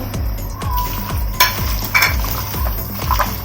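Chopped onions are worked into meat for beef rezala, producing wet squelching mixing strokes in a regular rhythm with a few sharp clinks of a utensil against the pan, close and without talk.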